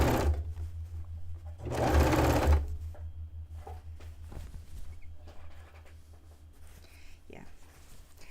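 A sewing machine attaching a ruffle to a bed-sheet dress runs in one loud, quick burst of stitching, followed by lighter handling noises and occasional talking.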